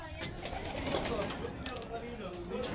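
Pigeons kept by a bird breeder coo in low, throaty bursts, fairly close, with some background chatter and ambient noise around them.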